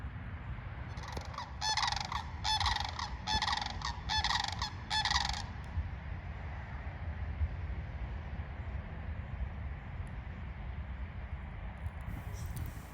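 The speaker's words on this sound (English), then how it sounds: "These are sandhill cranes." Sandhill cranes calling beside a trail, a burst of repeated loud honking cries in the first half that fades out, leaving faint low background noise.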